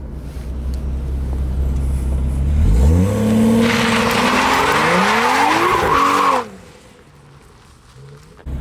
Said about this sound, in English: Smoked up some tires